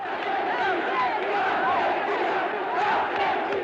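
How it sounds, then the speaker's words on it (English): Huge crowds in Buenos Aires cheering the Malvinas invasion, a dense, sustained roar of many voices with chanting shouts rising and falling, loud and unbroken throughout. "When news of the invasion reached Buenos Aires, the crowds went wild."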